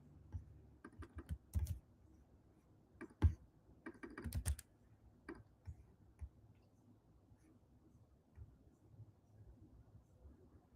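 Sparse typing on a computer keyboard during a livestream, scattered soft keystrokes and a few sharper clicks in short bursts, fading to quiet near-silence with occasional faint taps.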